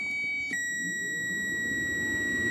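A steady, high electronic tone, like a multimeter continuity beep, sounds continuously during kit-car wiring work, starting faintly and then jumping louder after a half second, with a low hum underneath.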